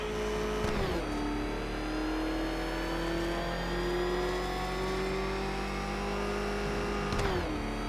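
Engine revving in Batman: Arkham Knight, a ramshackle motor in the Batmobile's race against a taunting villain, holding a steady loud tone that rises slowly in pitch across the clip, with a brief dip near the start and the end.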